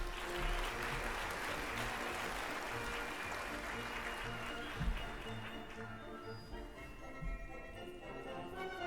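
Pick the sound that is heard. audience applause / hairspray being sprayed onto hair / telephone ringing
audience applause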